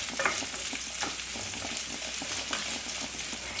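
Roughly cut onions sautéing in a hot pan for a restaurant-style veg kolhapuri curry, a dense steady sizzle with scraping stirs, close and continuous.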